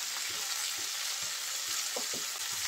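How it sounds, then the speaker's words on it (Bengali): Flat beans and shrimp are stirred and fried in a pan with green chilies, salt and turmeric, giving a steady, close sizzle. Soft scraping stirs recur through it, and no voices are heard. "নেড়ে চেড়ে ভালো করে সবকিছু মিলিয়ে নেব। অল্প আছে এখন ভেজে নিতে হবে।"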